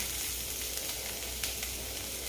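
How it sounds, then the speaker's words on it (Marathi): Chopped onion with a drizzle of oil sautéing in a kadhai, a steady close sizzle and crackle that holds throughout with a few brief sharper pops, no voices. "तो कांदा मी कढईमध्ये थोडासा परतून घेणार आहे"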